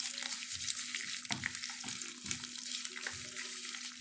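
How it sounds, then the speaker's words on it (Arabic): Vermicelli fries in hot oil in a pan, giving a soft sizzle broken by repeated rhythmic scraping as it is stirred, close and moderately quiet, with a faint steady tone underneath. "والزيت سخن، هنزل بقى بالشعريه اللي معايا"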